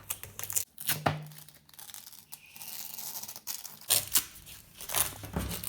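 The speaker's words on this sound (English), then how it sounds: "let's try to take this tape off" Tape peeled off an acrylic pour painting gives close, crackling tearing rips in several pulls, with short pauses between them and louder tugs toward the end.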